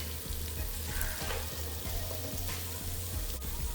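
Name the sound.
frying chopped tomatoes and green chilies in pan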